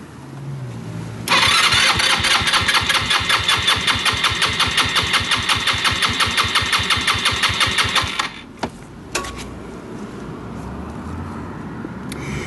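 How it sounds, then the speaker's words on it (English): A Chinese GY6 150cc scooter engine cranks with the throttle held wide open during a compression test, a fast, even chugging rhythm that runs loud and close for about seven seconds, stops, then gives two brief bursts. "open the throttle all the way and try to start the scooter"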